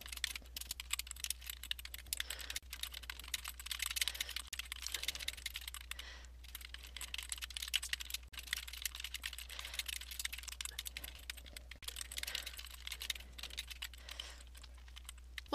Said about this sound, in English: so I'll go ahead and type those in